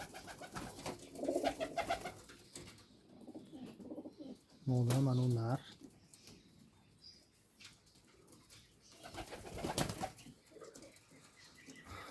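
Rampuri pigeons coo in low rolling calls close by, with brief wing flaps, a louder burst partway through, and someone speaking over them.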